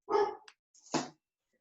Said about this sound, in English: Both dogs started barking.